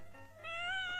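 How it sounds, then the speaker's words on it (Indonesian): A house cat meows once, a rising, drawn-out nasal cry heard close and clear over a faint room hum, with no talking during it. "kucing saya memang nakal"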